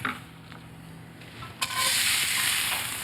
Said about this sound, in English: get the onions right into the pan